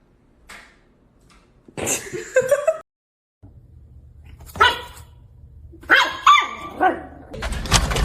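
A fluffy dog gives several sharp barks and yips in irregular bursts, close and fairly loud, with short quiet gaps between them and a faint chuckle nearby.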